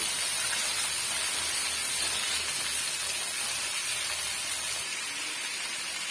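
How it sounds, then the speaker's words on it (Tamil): Chopped pirandai (veldt grape) sautés in a pan with a steady, even hiss of frying that continues without a break and is slightly quieter near the end. "சேர்த்துட்டு நல்லா வந்து சுருளை வதக்கி விட்டுக்கலாம்"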